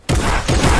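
A loud, dense burst of rapid gunfire from several weapons in the Fortnite video game fills the moment after a brief quiet start, with one short dip in the middle.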